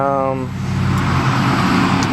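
A Nissan Fairlady Z32 engine runs with a loud, steady roar throughout. A brief voice is heard over it at the very start.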